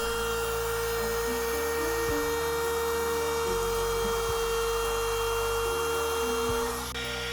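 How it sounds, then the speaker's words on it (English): A carpentry trimmer router cuts a wooden windowsill, giving a continuous high-pitched whine close by. The motor load shifts steadily throughout and the whine winds down near the end. "We don't use this trimmer very often, just for occasional adjustments like this."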